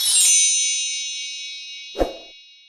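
A single bright bell ding rings out and slowly fades, followed by a short soft thump; no talking.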